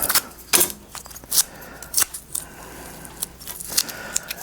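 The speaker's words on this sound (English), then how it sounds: "this is just ordinary masking tape, so nothing special about this. Peel these bits off" Ordinary masking tape being peeled off small metal pieces clamped near a bench vise, heard as a run of brief crackling rips and light metallic clinks, close and fairly clear with no talking.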